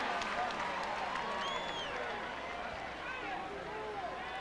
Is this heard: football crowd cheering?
yes